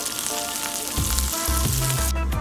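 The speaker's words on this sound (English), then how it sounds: "We're gonna wait until the garlic turns golden brown." Garlic and onion fry in a pan for Filipino beef steak, a loud continuous close sizzle with a few low stirring thumps partway through, no voices.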